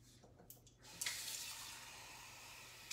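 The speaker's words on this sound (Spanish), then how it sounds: "I'm going to put a little bit more of water." Water is poured into a pot of Puerto Rican rice with pigeon peas (arroz con gandules), a steady close splashing pour that starts after a second of quieter kitchen sounds and runs to the end.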